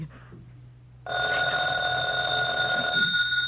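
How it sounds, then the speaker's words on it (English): An old-time radio drama telephone bell rings loudly and continuously, starting abruptly after a quiet moment and sustaining a bright metallic trill to the end. "The phone."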